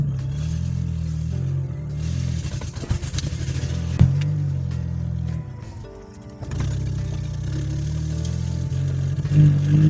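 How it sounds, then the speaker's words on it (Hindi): A Suzuki Khyber car engine runs just after carbon cleaning, idling with an uneven, misfiring hum that dips and stumbles and then picks back up, with some clattering along the way. "अब हम स्टार्ट की ट्राई लेंगे और हो गई। अभी मिसिंग कर रही है"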